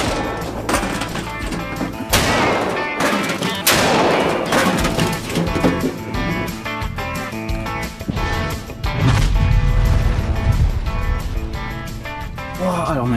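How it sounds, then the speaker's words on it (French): A full drink can is blasted from a potato cannon into a microwave, producing loud repeated bangs and crashing impacts with debris clattering, mixed with excited voices talking and exclaiming throughout. "Tir de canette pleine dans le micro-ondes"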